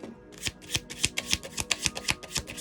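Intuit Oracle cards being shuffled in a rapid, steady run of crisp riffling flutters, close and clear with no talking.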